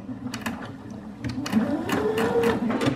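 A sewing machine stitching slowly around a curve in fabric, giving a close, whirring mechanical hum with short rhythmic needle bursts. It pauses briefly and then runs faster and more steadily toward the end.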